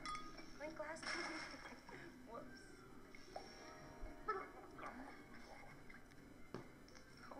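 Glasses clink together in a toast in the video game Octodad: Dadliest Catch, a few light, faint chinks near the start amid quiet game ambience and a voice.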